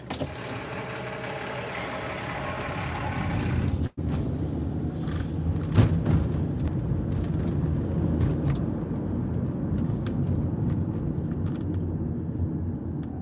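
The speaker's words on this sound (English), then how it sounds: "That is a loud truck." A loud truck engine passes close by at a roadside in North County San Diego, a heavy broadband rumble that holds steady for over ten seconds after a brief break.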